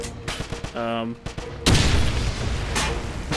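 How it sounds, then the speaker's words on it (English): Loud, sustained gunfire in the video game Wolfenstein follows brief voices and scattered shots, then continues as a dense rattle to the end. "Someone's still spanging bullets at me."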